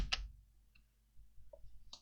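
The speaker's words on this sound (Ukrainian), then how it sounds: "нажати кнопку Tab на клавіатурі" A keyboard's Tab key is pressed while working in polygon-modeling mode on a computer: one sharp, near click at the start, followed by a few fainter clicks in a quiet room.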